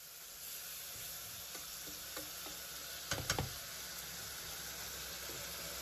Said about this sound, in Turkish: Ve şimdi salçamız hemen 1-2 dakika kavrulsun